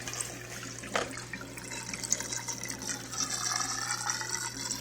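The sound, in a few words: water flowing through aquarium sump filter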